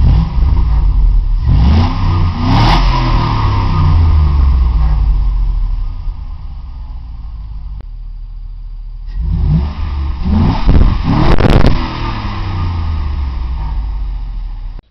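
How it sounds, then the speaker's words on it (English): A 2003 Chevrolet Tahoe with a new Borla exhaust revs repeatedly, deep rumbling bursts rising and falling over a steady idle, loud and close with a quieter lull midway. "I'm going to put it down, rev it up a little bit."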